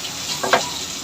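Garlic and onion sautéing in a pan, a steady close sizzle with a brief scrape of stirring in the middle.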